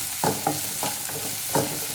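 Spring onion whites stir-fry for vegetable fried rice, a steady sizzle broken by four or five sharp spatula scrapes against the pan at an uneven pace, close and fairly loud.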